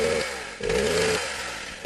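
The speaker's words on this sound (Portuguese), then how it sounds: "É uma motosserra, mas muita gente escuta uma moto." A chainsaw engine runs with a buzzing, revving drone that rises and falls in bursts over two seconds, loud and close, alone without talk.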